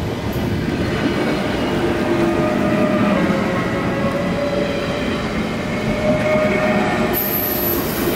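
Danish IC3 and IR4 passenger trains pass close by with a loud, steady rolling rumble, faint wheel clatter and a high wheel squeal rising near the end; no one speaks.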